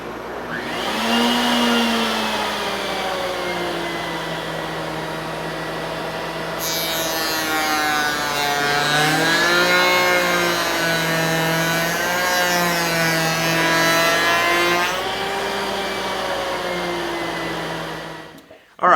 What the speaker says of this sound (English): So let's go lower the bit and we'll make another test cut